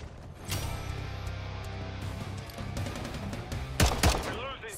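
Gunfire in Call of Duty Modern Warfare III multiplayer, a dense burst of rapid shots building through the clip with a few louder cracks near the end, set against steady battle din and faint background voices.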